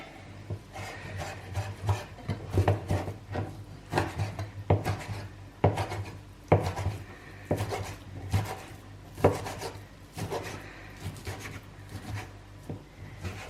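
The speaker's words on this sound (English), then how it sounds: "just gonna take a few bits and just slice them up" A knife slicing seasoned beef on a wooden cutting board, a steady run of crisp chopping taps landing roughly every half second, close and clear.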